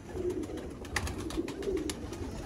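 Sialkoti pigeons coo softly in a repeated, low throaty rhythm, several overlapping calls close by with faint rustles between them.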